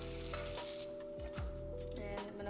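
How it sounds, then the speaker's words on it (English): Ham crisps in a lightly oiled frying pan, a steady close sizzle running throughout with occasional scraping stirs, no voices. "First I'm gonna let the ham toast up."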